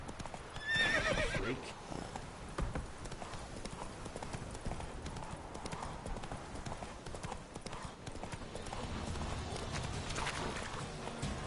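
Roach the horse from The Witcher galloping with quick clip-clop hoofbeats and a whinny, steady and close under game music, with a brief spoken line.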